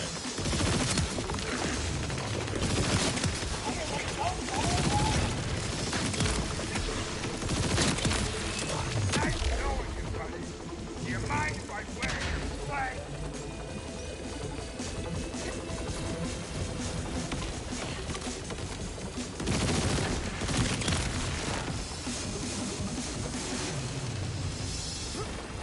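Unfamiliar gun firing in the video game Borderlands 4, loud bursts of gunfire running through the whole stretch amid a dense mix of game explosions, engine noise and effects.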